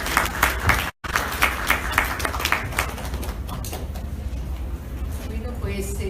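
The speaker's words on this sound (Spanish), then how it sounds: "Los recibimos con fuertes aplausos" An audience at a book-fair panel talk in Lima claps to welcome two panelists, a burst of dense applause that is loudest early on and thins into scattered claps and room murmur.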